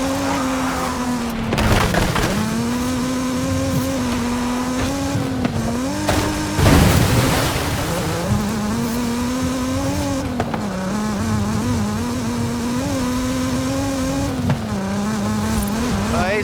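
A Mazda Miata in Forza Horizon 5 runs through spooky woods at the base of a volcano, its engine droning steadily with rising and falling revs as it shifts, plus brief tire noise, loud and continuous with no talk.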